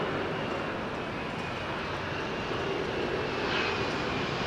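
An Oman Air airliner passes near London Heathrow Airport, a steady broad jet rumble held at an even, moderate loudness throughout, with no voices.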